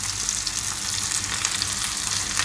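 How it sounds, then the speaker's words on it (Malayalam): Fish fries in hot oil with shallots and garlic in a Kerala-style fish fry, a bright, constant sizzle crackling close up and fairly loud, with no talking. "പ്രത്യേകിച്ച് വലിയ മീനുകൾ വറുക്കുമ്പോൾ"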